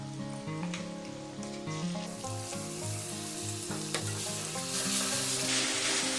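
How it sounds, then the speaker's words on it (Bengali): A ground paste of onion, garlic, green chili and coriander leaves sizzles loudly in hot oil for an egg papad curry, a dense continuous crackle with stirring and a brief louder burst near the end, no voices. "এবার এই যে বেটে রাখা পেঁয়াজ রসুন আর কাঁচা লঙ্কা ধনে পাতাটা এটা দিয়ে দেবো এই পেস্টটা দিয়ে দেবো"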